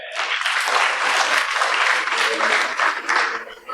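An audience at a FICCI FLO workshop in Indore claps, close and loud, a continuous burst of many hands that holds steady before tapering slightly at the end.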